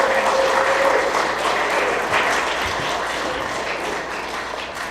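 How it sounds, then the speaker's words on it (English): Convention audience applause at a fan event fills the room, a dense steady wash of many hands clapping throughout that tapers slightly toward the end. "Let's give that guy a round of applause."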